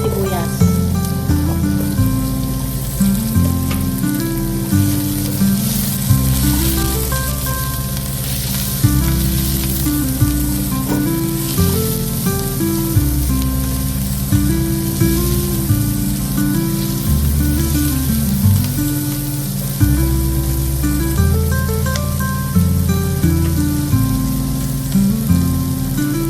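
Onions sauté in a pan for beef kaldereta, a continuous bright sizzle running beneath loud, steady background music for the whole stretch.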